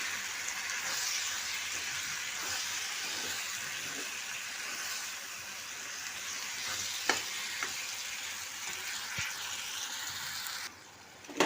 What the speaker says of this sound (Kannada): ನೋಡಿ ಚೆನ್ನಾಗಿ ಕುದೀತಾ ಇದೆ